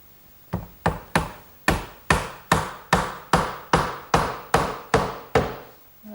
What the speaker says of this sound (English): when I drive the dowel in it'll get glued and it won't pop out later